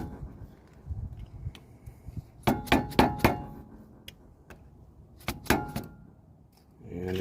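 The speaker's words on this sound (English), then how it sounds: "Lightly hammer on it." Light hammer taps drive a flathead screwdriver wedged behind the lip of a front wheel hub cap on a 2WD Jeep Cherokee/Comanche, giving two clusters of sharp metallic knocks close by over a quiet background.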